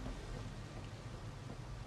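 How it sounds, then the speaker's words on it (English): Steady rain in the video game Mass Effect: Andromeda on the jungle world Havarl, a continuous broadband wash with low rumbling underneath, moderately quiet and unbroken, with no voices. "Oh, I also didn't know it was raining."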